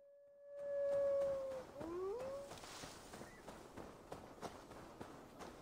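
A wolf gives a long, rising and falling howl, then a shorter wavering one, in Assassin's Creed Valhalla's Asgard, followed by quiet footsteps and rustling.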